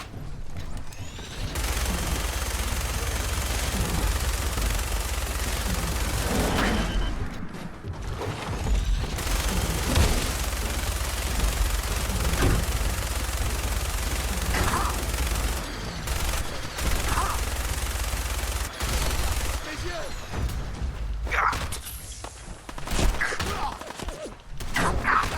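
Sustained gunfire in the Fallout 4 video game rattles on continuously under a steady bed of game noise, with occasional heavier bursts and thuds.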